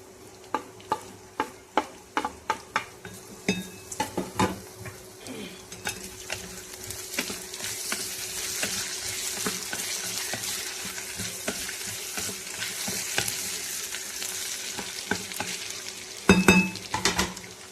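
Cut potatoes and garlic go into a pan of onions being stir-fried for a quick fenugreek-potato dish, with a steady frying sizzle and a run of sharp spatula scrapes and clinks against the pan, loud and close, with no talking.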